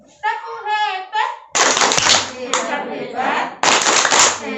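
A group of parents at a parenting class claps together in a quick rhythmic "tepuk hebat" pattern, loud and close, with a short burst of child-like vocalizing before the clapping starts.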